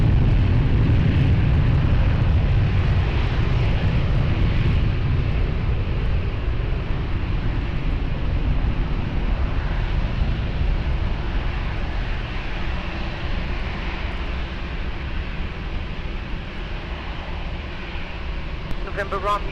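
An airplane landing on runway 20 at Lisbon Airport gives a loud, steady, rumbling roar that fills the whole stretch and eases slightly toward the end, with air traffic radio voices underneath.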